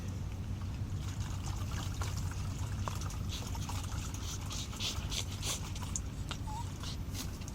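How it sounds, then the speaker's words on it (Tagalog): Water pours steadily into a dog's bowl, a continuous trickling splash against faint background noise. "Ilagyan ko muna siya mga boss ng tubig"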